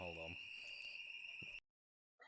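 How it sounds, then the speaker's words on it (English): A home fire alarm beeps with a steady, loud high-pitched tone through most of the clip, with a person speaking briefly over it at the start before it cuts off abruptly. "That's my fire alarm."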